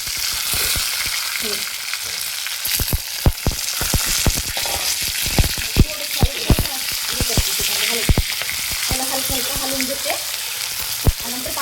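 Green chillies sizzle loudly in hot oil with browned curry leaves and garlic in a pan, a continuous bubbling hiss broken by sharp clinks and scrapes of stirring.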